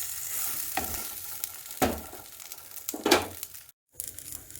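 Eggplant slices roasting in a pan with masala spices such as red chili and jeera powder, giving intermittent stirring scrapes and a soft sizzle over a few seconds, with no talk.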